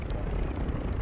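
A helicopter in the video game Modern Warfare 3 Warzone gives a steady, loud rotor and engine roar that fills the whole moment without a break.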